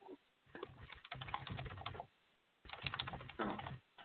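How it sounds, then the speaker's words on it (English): A computer keyboard is typed on in two short bursts of rapid, close keystrokes while a website address is entered, separated by a brief quiet gap. "Let me type it in here."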